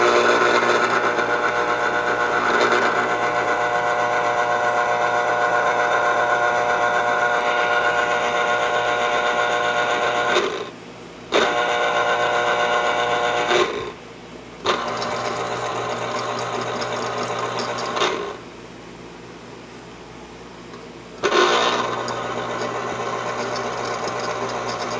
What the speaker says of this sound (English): so now I gotta use my lemon juicer.